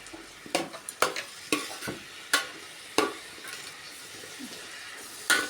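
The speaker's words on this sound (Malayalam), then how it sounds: "അതിന് ശേഷം ഉള്ളിയും ബീഫും എല്ലാം നല്ല പോലെ ഇളക്കി കൊടുക്കുക." Onions and beef sizzle in a pan while being stirred, with a soft frying hiss broken by sharp scraping clacks of the spoon at uneven intervals, close by and without talk.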